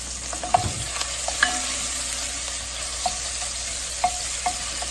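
Bacon frying in seasoned oil, a steady close sizzle with occasional sharp pops and utensil clinks against the pan.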